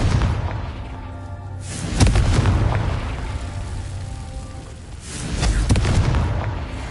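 Fire-spell blasts from Confringo in Hogwarts Legacy burst twice, at about two and five seconds, as loud deep booms with rumbling tails over a steady, busy game soundscape, with no voices.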